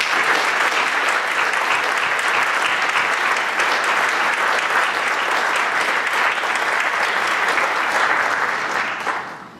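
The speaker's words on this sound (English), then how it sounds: "please join me once again in applauding all of our new Honor Society members" Loud, sustained clapping from a school audience welcoming new National Honor Society inductees at a high school ceremony, a dense crowd of hands that holds steady for nearly ten seconds before cutting off.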